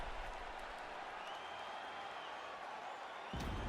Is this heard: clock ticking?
no